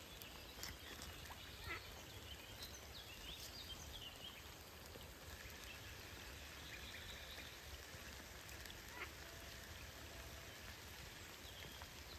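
Gentle rain patters steadily on surfaces, a soft continuous hiss with scattered drops, quiet and without speech.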